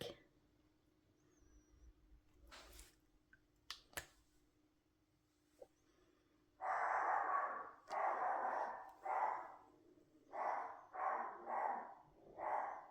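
A dog barks in a quiet indoor craft-making setting, a series of about seven loud, close barks in uneven bursts after a stretch of faint clicks and rustles, with no talking.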